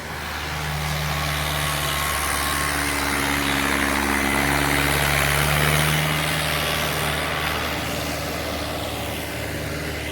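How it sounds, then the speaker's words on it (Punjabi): A tractor engine runs at a steady, rumbling idle for the whole stretch, a constant low drone with no voices. "ਟਰੈਕਟਰ ਦਾ ਖੜਕਾ ਹੋ ਰਿਹਾ ਤੇ ਆਵਾਜ਼ ਸੁਣਦੀ ਨਹੀਂ ਪਈ"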